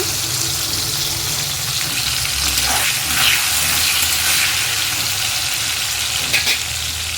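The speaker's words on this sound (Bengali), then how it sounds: "কাজু কিশমিশটা একটু ভালো করে ভেজে নেব" Steady hissing sizzle of cashews and raisins frying in hot oil, continuous throughout, with occasional light stirring clinks.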